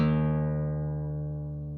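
A single low guitar note rings out and slowly decays, its pitch sliding gently downward as the string is slackened.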